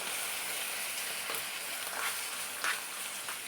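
Raw mango chutney frying in oil with curry leaves, a soft continuous sizzle and hiss close by with a few faint stirring scrapes, no voices.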